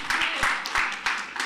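Spectators at a local cricket tournament clap for a bowler, a short patch of scattered outdoor applause with a voice over it.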